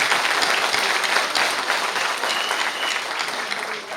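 A seminar audience at an agricultural company event breaks into loud, continuous applause that slowly eases in strength, with faint crowd murmur underneath.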